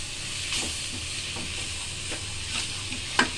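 Grated carrot stirred into egg noodles in a home pan, with a soft continuous sizzle and light scraping stirs that come back every second or so, then a sharp clink near the end, no voices.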